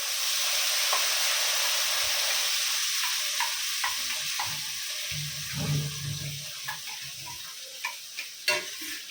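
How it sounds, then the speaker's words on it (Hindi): Freshly ground masala fries in a pan for a Mughlai red chicken curry, with a soft continuous sizzle and scraping stirs, a few sharper knocks toward the end, close and without talk. "अभी मसाला पीस के लाए वो डालेंगे"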